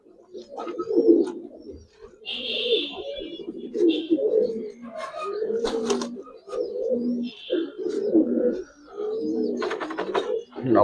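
Giribaz and Army pigeons coo nearby in a pen, with soft repeated low coos overlapping a few higher calls, while people talk throughout.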